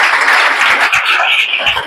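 An audience claps together in a hall, steady dense applause of many hands throughout.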